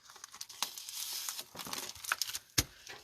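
Someone trims a piece of adhesive sheet for card making, giving close, quiet crinkling and scraping bursts with a few sharp snips, the loudest near the end.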